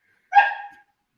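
A dog gives one short, sharp bark, close and fairly loud, with no talk around it; the sound comes from a dog named Roxy.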